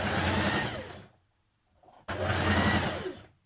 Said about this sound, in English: Stitch your waistband casing to the top of your trousers.